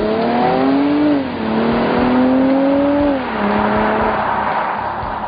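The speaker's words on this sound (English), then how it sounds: "The silky-smooth engine positively wails when opened up." A 2009 Mercedes-Benz SLK350's 3.5-liter, 300-horsepower V6 engine revs hard and high, wailing up through the range, easing off briefly, then climbing again in a smooth, continuous howl.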